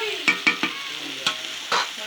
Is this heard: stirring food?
yes